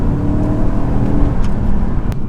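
A deep, rumbling V8 exhaust from a BMW E92 M3 with a pipe modification, pulling hard nearby, a low throbbing growl with a few crackles and pops near the end.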